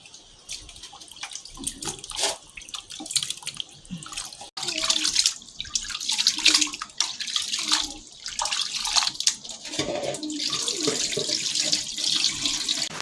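Water runs steadily from a tap while pork is rinsed and rubbed beneath it, with splashing and shifting gurgles throughout.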